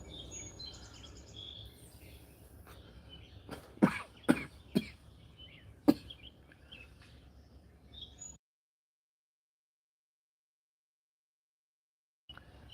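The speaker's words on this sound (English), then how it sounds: "I was trying not to cough in your ear." A few sharp coughs close to the microphone, in a cluster of three and then a single one, with faint outdoor birdsong in the background on a quiet North Georgia morning.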